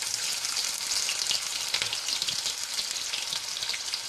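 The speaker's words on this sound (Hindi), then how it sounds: "अब हम इसमें डालेंगे बारीक कटा हुआ प्याज" Finely chopped onion sizzles and crackles steadily as it fries in hot oil for baingan bharta, a dense continuous hiss with small pops, close and fairly loud, with no voices.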